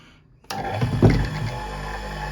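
Capacitor-run asynchronous electric motor starting up again: after a brief quiet, a sudden switch-on clunk gives way to a rising hum that settles into a steady, close whine.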